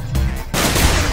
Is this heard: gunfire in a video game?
yes